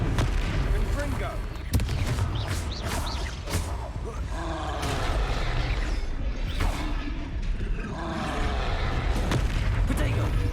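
Repeated booming fire-blast explosions from Confringo spells in Hogwarts Legacy during a fight, crackling impacts landing every second or so over continuous battle noise, with voices heard amid the blasts.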